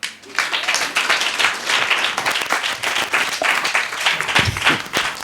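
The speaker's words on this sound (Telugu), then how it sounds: "ఆ తిట్లు తిన్నందుకు ఒకసారి క్లాప్స్ కొడదాం." A church congregation claps together in a steady, dense burst of applause that runs throughout, loud and continuous with a few faint voices mixed in.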